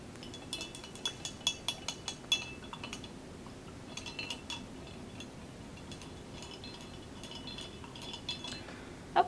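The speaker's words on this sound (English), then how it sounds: "so now I'm going to rinse my brush." A paintbrush rinsed in a water container clinks repeatedly against its sides, a quick run of light taps near the start followed by softer scattered knocks, close and fairly faint.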